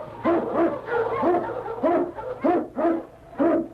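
An Eskimo sled lead dog barks as a radio drama effect, giving a run of about eight sharp, evenly spaced woofs, loud and near, with no talk.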